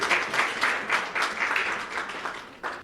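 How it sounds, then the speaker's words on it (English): Audience applause at a Pakistani-American community event, a room of clapping hands swelling and ebbing in waves, then a fresh burst near the end, with no talk over it. "let's give a big round of applause to PACC, Waqar Bhai and Fatma Bhabhi"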